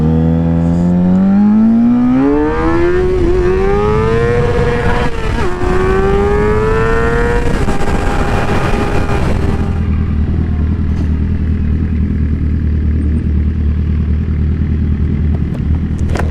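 Suzuki SV650 motorcycle riding on a freeway, its engine revving and rising in pitch through the gears, loud and close under heavy wind rush, then settling into a steady cruising drone.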